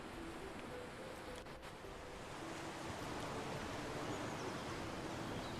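Ocean waves in the Roman-era city-building game Anno 117: Pax Romana wash in a steady, soft, broadband surf that swells slightly louder partway through, with no voices over it.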